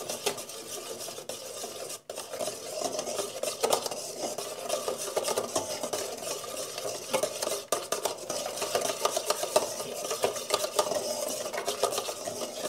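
A spoon stirs caramel cream powder into a banana and milk mixture, giving a continuous close scraping and swishing against the bowl with occasional sharper clinks and no talking.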